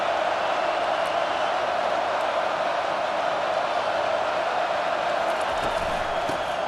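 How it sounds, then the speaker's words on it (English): Steady roar of a stadium crowd in EA Sports College Football 25, a dense continuous wash of massed voices held at an even level throughout with no break. "This crowd going to try to make life miserable for these guys."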